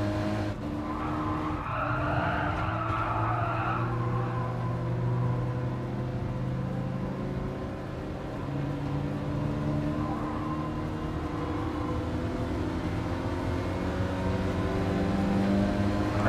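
Race car in the Gran Turismo Sport video game, engine droning steadily throughout with tire skidding and squeal layered in, loud and continuous with no talk.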